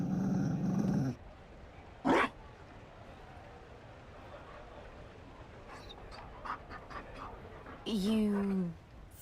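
Mabari war dog in Dragon Age: Inquisition giving a brief low growl and short panting breaths, separated by quiet stretches and set between snippets of talk.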